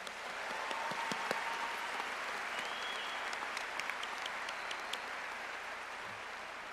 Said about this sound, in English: let's give our platform party a round of applause